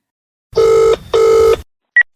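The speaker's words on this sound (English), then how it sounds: "other sports commentators from all over the place started getting involved and ringing into the Mario Rosenstock podcast hotline" Two long telephone ring bursts sound loud and close as a call comes in to a podcast hotline, followed by a brief electronic beep and a faint blip, with no talking.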